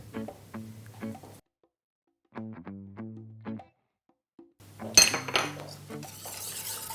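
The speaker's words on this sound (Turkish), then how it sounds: "Vanilyayı da güzelce karıştırıyorum." Metal utensils clink and scrape against a pot while pastry cream with vanilla is stirred, in short clattering strokes broken by brief pauses, with musical tones underneath.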